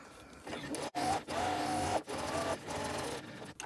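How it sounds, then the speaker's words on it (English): Sewing machine top stitching a curve, running in short bursts of rapid mechanical whirring broken by brief pauses, close by and with no voices. "Sew down the other side."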